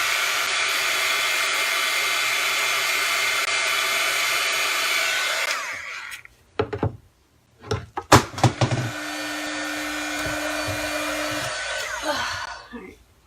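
A hair dryer blows steadily on a transfer for several seconds, cuts off amid a few knocks and handling clatters, then starts again with a steady whine and rush before stopping.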